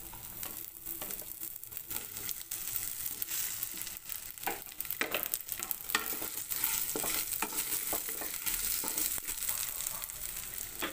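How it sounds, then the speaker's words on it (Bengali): Potatoes frying in a pan beside browned lentil dumplings, a steady sizzle broken by repeated scraping and clattering stirs of the spatula, close and busy throughout with no voices. "এর মধ্যে আলু দিয়ে দিচ্ছি।"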